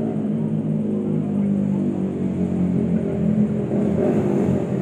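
A big motorbike engine rumbles and revs at night on a city street, a loud steady low drone with slight swells, close by and without talk.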